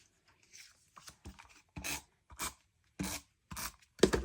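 Trimming a paper sketch cutout, a series of short crisp rasping cuts in irregular rhythm, close and distinct with quiet gaps between strokes and no talk.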